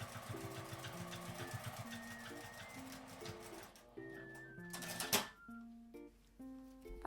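A sewing machine stitches a small tri-fold wallet in a soft, rapid rhythmic patter under light background music, followed by a sharp thump and quieter pauses.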